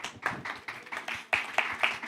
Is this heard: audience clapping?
yes